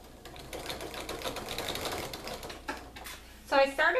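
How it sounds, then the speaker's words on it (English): Home sewing machine stitching fabric along a marked seam line for a soft book, a fast rattling mechanical run that is fairly close and steady, ending in short louder bursts. "And now I'm just going to sew along following that dark line or a 1/4 inch seam if that's what you're using."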